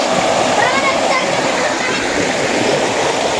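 Steady rushing river water, a dense continuous roar close by, with voices faintly mixed in; the river water is deep and clear.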